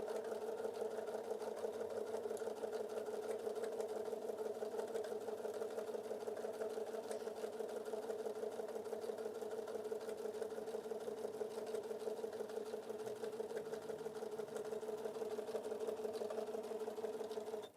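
A Bernina 770 sewing and embroidery machine stitching fabric at a slowed pace, a steady, even mechanical hum with a fine rapid needle chatter running unbroken throughout.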